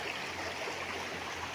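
A river runs through a three-hectare farm lot in Real, Quezon, giving a soft, steady rushing wash that stays even and fairly distant, with no voices.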